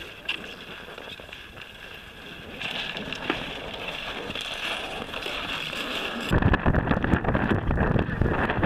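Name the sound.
strong wind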